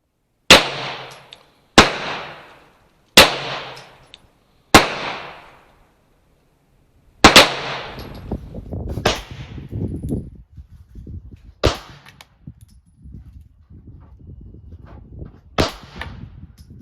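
Pistol shots from a Staccato P fitted with a Sig Sauer Romeo 1 Pro red dot, fired while zeroing at an outdoor range: four sharp, evenly spaced reports, then a few more scattered cracks over a rumbling, noisy background.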